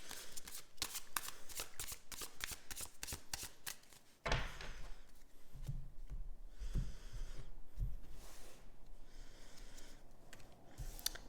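Tarot cards being shuffled close up in a rapid riffling burst, then a looser, softer stretch of card handling and sliding that carries on alone with no voice.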